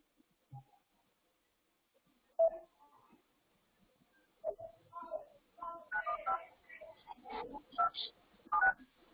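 A telephone number is dialed on a keypad for a trucking dispatch cold call, producing a series of short DTMF beeps, sparse at first and then coming in quick succession, moderately close.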